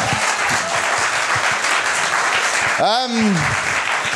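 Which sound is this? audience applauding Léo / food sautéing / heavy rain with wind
audience applauding Léo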